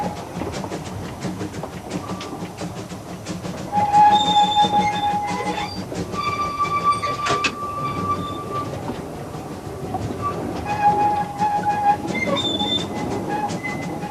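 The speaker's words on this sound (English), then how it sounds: "a very attractive journey through beautiful countryside behind a steam engine" A steam train rumbles along the rails with rhythmic clatter and occasional high metallic squeals from the wheels, steady and fairly close, with no voices.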